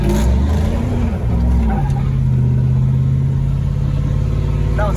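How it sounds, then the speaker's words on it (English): Car engine revving hard as the vehicle swings into a drift, a loud, close mid-pitched roar that rises and shifts pitch, then settles into a sustained drone. "First drift coming up."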